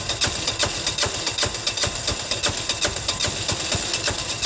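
China Diesel 6HP engine running after a cold start in sub-zero weather without an intake heater, a fast, steady, rattling knock repeating evenly, loud and close, with no talk.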